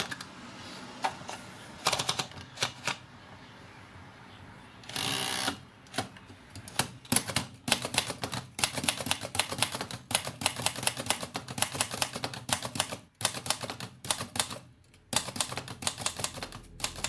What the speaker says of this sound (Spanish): Cuentan los biógrafos de Henry James que el ruido de la máquina de escribir Remington era